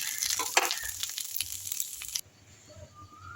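Oil sizzles and crackles loudly as fish heads fry with stirring and scraping, then the frying drops to a quieter hiss.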